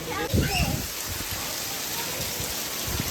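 Steady rain from the first rain of the season in Rapar Vagad pours down in a dense, even hiss, with a voice briefly speaking at the start.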